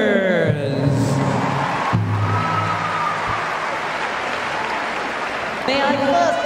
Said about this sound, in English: How about a round of applause for the Youth Reach Daiko Drummers?